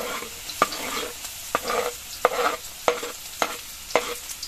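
Onion and garlic frying in a pan, stirred with a utensil: a steady sizzle broken by about seven sharp scrapes and clacks at a fairly even pace, close and clear with no talking.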